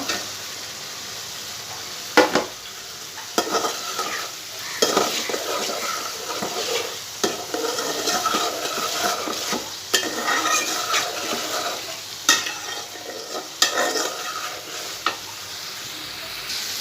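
Fried fish pieces going into a pan of sautéed potatoes and spices, then stirred: a steady sizzle with repeated sharp scrapes and knocks of a spatula against the pan, close and fairly loud, with no voices.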